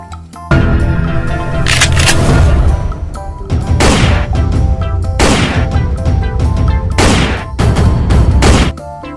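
Toy Glock pistol fires a loud burst of rapid electronic gunshot sounds, with several dense volleys separated by brief pauses across the whole stretch.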